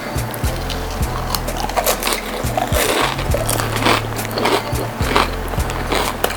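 Crunchy spicy dosa is bitten and chewed close up, giving repeated crisp crackling bites and chewing over a low, steady background hum.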